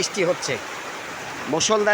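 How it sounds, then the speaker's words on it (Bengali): Heavy rain pours steadily as a dense, even hiss throughout, with voices talking over it at the start and end. "বৃষ্টি হচ্ছে সেটা আপনাদেরকে দেখানোর জন্যই মূলত"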